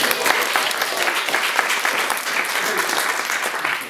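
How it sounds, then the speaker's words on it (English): Comedy show audience giving a full round of applause, dense and loud clapping from a packed crowd that stays strong and steady for the whole stretch. "can we get one more round of applause?"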